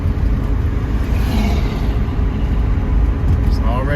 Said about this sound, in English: A lot of cars already cruising.